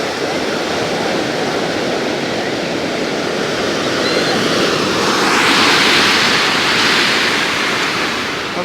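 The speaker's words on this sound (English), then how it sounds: "the waves are breaking right here" Ocean surf breaks at the edge of a beach with seaweed washing up, a loud continuous roar of waves that swells near the end, no voices.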